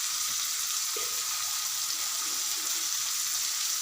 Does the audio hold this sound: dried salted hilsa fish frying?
yes